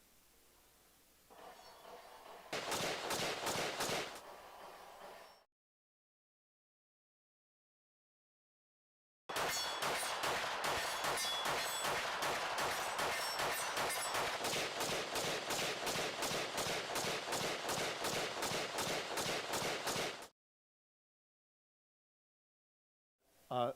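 PL Turbo Valkyrie pistol fired in a recoil test, with a short quick string of sharp shots, a pause, then a long rapid run of loud, evenly spaced shots and one final shot at the end.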